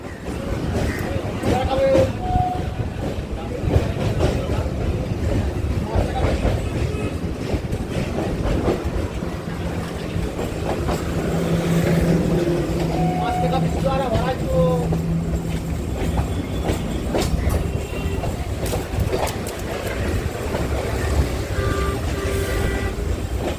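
Train rolling along the Dum Dum to Majerhat line via Tollygunge, heard from on board as a continuous rumble and rattle with faint squeals and occasional talk over it.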